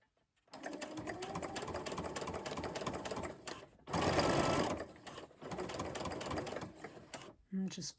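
A sewing machine fitted with a zipper foot stitches a lapped zipper in bursts of rapid, even needle chatter. The runs are separated by brief pauses, with a louder whirring burst midway and a short final tap.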